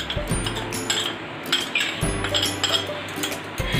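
Ginger, Kashmiri red chilli powder and turmeric are stirred into gram flour batter in a bowl for bread pakora, with a spoon clinking and scraping against the bowl in an uneven, repeating rhythm close by.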